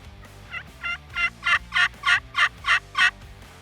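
A wild turkey gobbles in a rising series of rapid, throaty bursts, about eight quick pulses growing louder, close and clear against a quiet outdoor background in Maryland.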